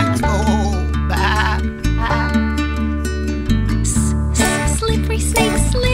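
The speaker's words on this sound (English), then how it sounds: "Baa Baa Black Sheep, have you any wool?" Wavering sheep bleats repeat over a loud children's nursery-rhyme music track, close and prominent and mixed into the song.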